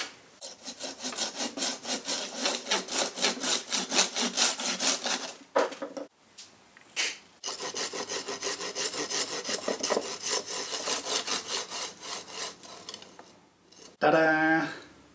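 A hand saw cuts off branches of a hawthorn bonsai with rhythmic back-and-forth rasping strokes, close and fairly loud. Two brief pauses break the sawing, then a final short burst closes it.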